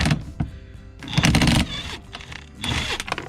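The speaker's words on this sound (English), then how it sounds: "Now we're going to pop this bolt off." A tool loosens and pops off the steering wheel bolt on a 2000 Jeep Cherokee: close, quick bursts of mechanical clicking and rattling in several short runs.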